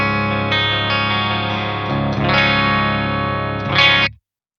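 Electric guitar on its bridge pickup played through a Synergy DRECT amp, giving bright, heavily distorted sustained chords with a few changes before cutting off abruptly.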